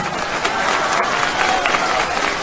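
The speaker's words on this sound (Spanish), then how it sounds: "Un aplauso a los medios de información" Crowd applause at an outdoor political rally in Xiutetelco, Puebla, greeting the news media; dense, steady clapping and crowd noise that stays loud and even throughout.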